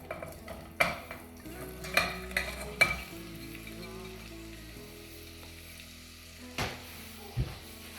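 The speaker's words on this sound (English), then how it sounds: "I'm just going to add the onions into the saucepan" Onions drop into melted butter and oil in a saucepan and sizzle quietly, with a few clinks and stirring knocks from the pan along the way.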